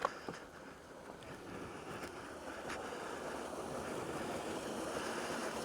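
Water pours steadily out of an old hydro plant outdoors, a constant broad rushing wash with a sharp knock at the start and a few faint clicks, heard alone without talk.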